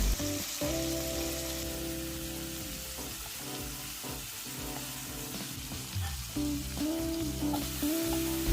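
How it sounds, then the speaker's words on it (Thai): Shrimp fry gently over moderate heat in a pan, giving a soft, steady sizzle with light crackles, while a quiet tonal background hum runs underneath. "เวลาทอดกุ้งไม่ต้องใช้ไฟแรงมากนะคะ เพื่อให้กุ้งสุกพอดีแล้วก็มีมันที่หัวกุ้งออกมาเยิ้มๆฉ่ำๆหอมน่าทานค่ะ"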